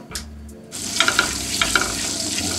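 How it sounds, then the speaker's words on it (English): Butter melting and sizzling in a hot pan for a mac and cheese sauce, a steady frying hiss with a few stirring clinks after a brief quiet start. "So we're just going to melt this butter down."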